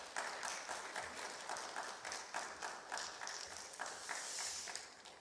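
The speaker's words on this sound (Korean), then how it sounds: "목사님 나오실 때 우리 환영의 박수로 환영하겠습니다." A church congregation at a Sunday service claps in welcome as the pastor comes forward, a faint, steady wash of applause in a large room.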